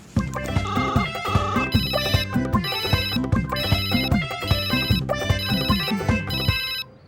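A phone ringtone plays loudly and continuously, a repeating electronic melody with bright chiming bursts, no voices.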